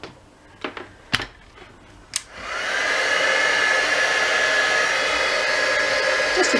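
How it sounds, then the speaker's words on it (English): A handheld heat tool switches on after a few clicks and blows steadily to dry a layered craft tag, its loud continuous whirring hiss holding to the end. "heat tool"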